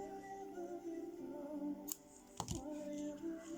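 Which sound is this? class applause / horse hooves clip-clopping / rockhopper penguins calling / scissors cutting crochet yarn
scissors cutting crochet yarn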